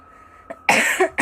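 A person coughs close and fairly loud: a faint short hack, then a longer harsh burst with a second push, and a final sharp cough, with no talking.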